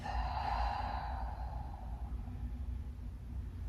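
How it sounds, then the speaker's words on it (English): One deep, slow breath during a yoga flexibility and strength flow, drawn in through the nose and let out through the mouth, a close, soft, airy rush that fades over a low background rumble. "Let's take a big inhale through the nose and exhale through the mouth"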